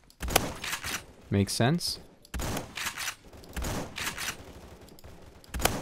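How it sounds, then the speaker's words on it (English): A KS23M shotgun loaded with birdshot fires in Roblox Phantom Forces, giving several sharp, loud blasts spaced a second or so apart, mixed with someone talking. "Yeah, Birdshot shotgun that kills from this range."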